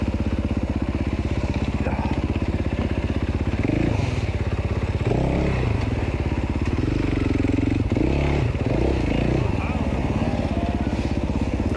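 An enduro dirt bike engine labors during the Bad Medicine hard enduro race, a loud continuous buzzing drone with uneven throttle surges, clattering and thumps as the bike picks through rough terrain.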